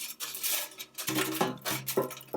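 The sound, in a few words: dumping food from IKICH air fryer basket onto a plate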